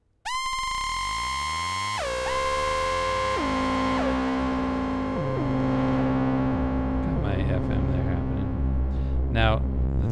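A synthesizer in Ableton plays bright, harmonic tones that step down in pitch through a delay effect, with repeats smearing each note into a dense, continuous wash that builds toward the end.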